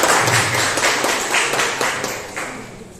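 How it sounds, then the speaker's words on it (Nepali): Audience applause welcoming a doctor at the opening ceremony of a clinic, a steady crowd clapping that is loud at first and slowly fades over three seconds, with no talk over it. "जोरदार तालीले उहाँलाई हाम्रो ठाउँमा स्वागत गरौँ।"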